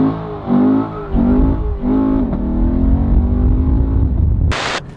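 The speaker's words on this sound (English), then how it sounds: "You can tell that they spent so long crafting the way that exhaust sounds" A Lexus LC500's V8 exhaust revs up and drops through several quick shifts, deep and loud, ending with a sharp crackle.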